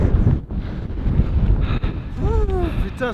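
Strong wind buffets the microphone outdoors during Ironman training, a steady loud rumble with gusts throughout, with a brief rising tonal whine near the end.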